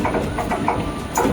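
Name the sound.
train with WAP-4 locomotive 22281 at station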